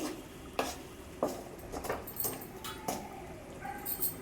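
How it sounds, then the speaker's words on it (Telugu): Salt and chili powder being stirred into a cooked mixture in a pot, with a few scattered scraping clicks of a spoon against the vessel over a soft background hiss, no voices. "వేసి బాగా మిక్స్ చేస్తున్నానండి"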